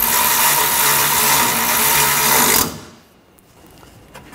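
A power tool whirs loudly and continuously while tightening a bolt on the A/C condenser bracket of a Honda HR-V, then cuts off abruptly, leaving quiet workshop background.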